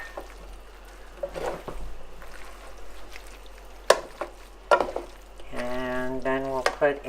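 Greens tossed with oil and salt in a pan give a quiet, faint sizzle under soft scraping and a few sharp utensil clicks, with a brief voice near the end.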